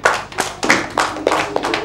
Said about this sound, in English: girls, give them a big clap.